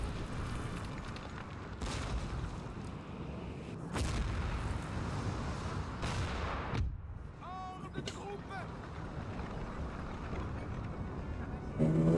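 Cannon fire and battle noise from Napoleon: Total War, a dense continuous roar with heavy booms landing around 2, 4 and 7 seconds and a sharp blast near the end, over constant rumbling background.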